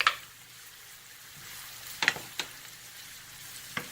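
Onion, garlic and ginger frying in oil in a pan over medium heat, a faint steady sizzle with a few brief sharper crackles and stirring scrapes; no talking.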